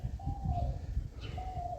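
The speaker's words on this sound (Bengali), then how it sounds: "পাখি ডাকছে" Soft, drawn-out bird calls repeat twice at a distance over a quiet outdoor background at the Majher Char ferry ghat, Tribeni.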